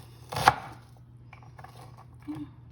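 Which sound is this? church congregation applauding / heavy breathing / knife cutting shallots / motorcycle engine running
knife cutting shallots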